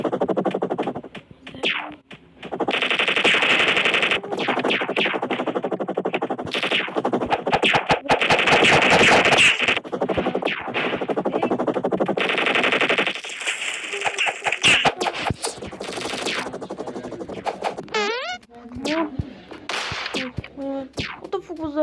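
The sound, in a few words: gunfire in Chicken Gun video game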